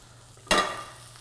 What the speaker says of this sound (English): If you can't hear my mushrooms, they're sizzling really well.